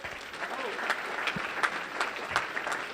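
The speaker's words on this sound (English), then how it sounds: "Can we just give one more round of applause to all of our elected officials today?" A crowd claps steadily in applause for elected officials at a charity finale event, with a few sharper claps standing out and some faint voices underneath.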